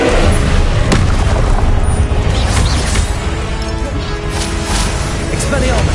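The Confringo blasting spell in Hogwarts Legacy erupts in loud, dense booming explosions with crashing debris, a continuous heavy roar under a voice calling out.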